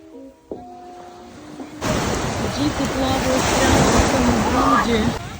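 Surf washes in steadily at the central beach of Pattaya, a broad continuous roar of waves with wind rushing over the microphone, following a brief quieter stretch with a faint tone.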